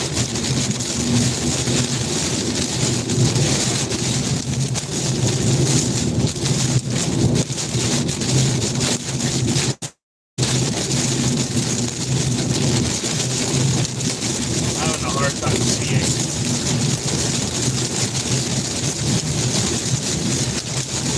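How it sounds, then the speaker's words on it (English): Tornado-strength wind roars near a car south of Oklahoma City while heavy rain pelts down and thunder rumbles, one loud continuous storm din broken by a brief silent cut midway. "Very strong winds."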